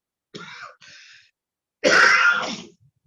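A person coughs three times close up during a Bible class: two short, lighter coughs, a pause, then one harder, raspy cough.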